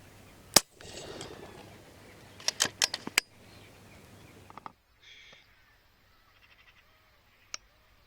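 A single sharp, close crack from an FX Crown air rifle firing 25-grain H&N slugs at hooded crows outdoors, followed by scattered crow caws and clicks, then near silence with one last faint click.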